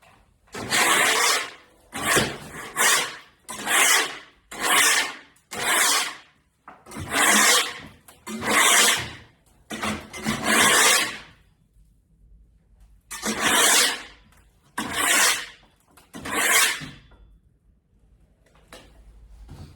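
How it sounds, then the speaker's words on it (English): A scraper works over a textured ceiling during drywall remodeling in roughly a dozen loud, rhythmic rasping strokes separated by short pauses. Faint debris patters down between strokes, and no one speaks. "you could hear the little particles hitting the floor"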